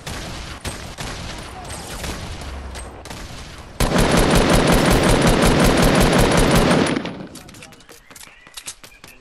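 Sustained minigun fire in a squads shooter game, a loud continuous roaring burst lasting about three seconds, preceded and followed by scattered lighter gunshots and faint voices.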